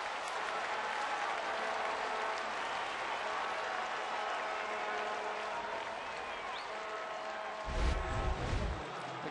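A baseball crowd at a Seattle at Toronto game applauds in a steady, distant roar of clapping that carries on for several seconds, with a low thump near the end.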